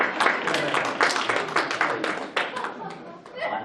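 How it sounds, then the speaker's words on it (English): An audience claps steadily at a rehearsal dinner, a dense patter of hands with some chatter and light laughter mixed in throughout. "I like it when they applaud."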